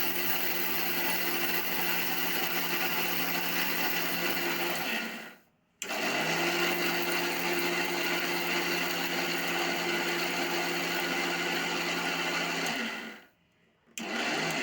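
An electric grinder pulverizing fenugreek seeds into powder whirs loud and steady in two long runs, cutting out briefly near the middle and again near the end, with no voices over it.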